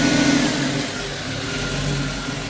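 A Ford 200 inline-six engine with multi-port fuel injection revs at raised RPM, giving a steady, smooth, even drone that stays close and loud throughout with no voices.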